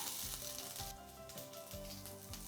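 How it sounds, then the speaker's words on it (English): French beans, cauliflower florets, carrots and potatoes sauteing in vegetable oil for a restaurant-style veg hariyali, a steady bright sizzle with low clunks of the spatula tossing the vegetables every half second or so, close and fairly loud. "Let's begin with vegetable oil and add in the vegetables to saute"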